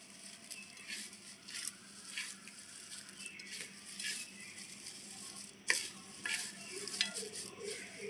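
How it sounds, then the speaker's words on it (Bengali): Crisp fried shredded potato being mixed with curry leaves and nuts, giving a steady dry rustle with irregular crunchy scrapes and patters, close and fairly quiet, with no talk. "ভালো করে মিশিয়ে নিচ্ছি কারি পাতা আর বাদাম।"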